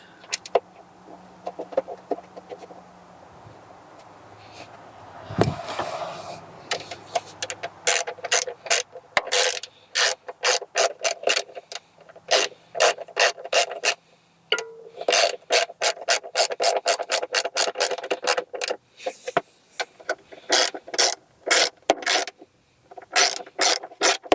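Close, rapid ratchet clicking in repeated bursts as screws are driven back in while changing spark plugs on a Mitsubishi Outlander Sport 2.4L, after a quieter stretch of handling and rubbing at the start.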